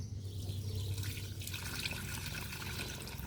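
Water poured onto garden plants, a continuous close trickle and splash lasting a few seconds, with a faint low hum at the start.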